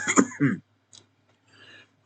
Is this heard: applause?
no